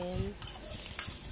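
Garlic sizzles in hot cooking oil for adobong pusit while a utensil stirs it, with a close, continuous frying hiss and light scraping against the pan.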